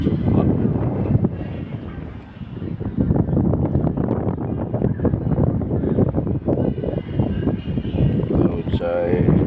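Strong wind buffeting a microphone on a rooftop, a loud continuous roar with gusting surges throughout, briefly easing near the middle.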